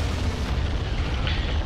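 A bomb dropped by a TB-001A Scorpion drone in a video game goes off as a single dull, rumbling boom, a continuous low roar lasting throughout with no talk over it.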